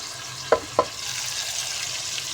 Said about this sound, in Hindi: अब हमने इस पेस्ट की मिक्सिंग कर देनी है अच्छे तरीके से